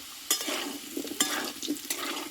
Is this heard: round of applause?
no